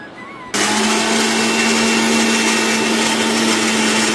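A mixer grinder starts abruptly and runs loud and steady, whirring as it grinds coriander, curry leaves and green chillies into a gravy, with a constant motor hum throughout.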